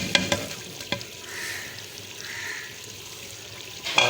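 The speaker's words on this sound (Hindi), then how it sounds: "और इनको तकरीबन 3 से 4 मिनट के लिए हम अच्छी तरह भूनेंगे" Spice masala with tomato and onion frying in a pan, with a steady sizzle under occasional sharp clinks and scrapes of stirring. The cooking sound stays close and moderately loud, with no talk over it.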